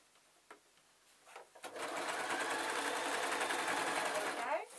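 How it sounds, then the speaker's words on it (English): A sewing machine stitches a hem over elastic on a fabric dust cover for a show jumping cob saddle: a few soft handling clicks, then a steady, rapid mechanical whirr that runs loudly for several seconds before slowing. "And I'm sewing it over the elastic."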